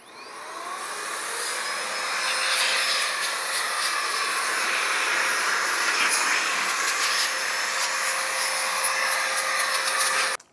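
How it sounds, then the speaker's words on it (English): A small air blower hisses steadily as it blows dust off a custom BBS wheel for a BMW G80 M3, a continuous close, loud rushing of air that holds for about ten seconds before cutting off abruptly. "I'm gonna take a little air blower and just blow off any dust that may be on here"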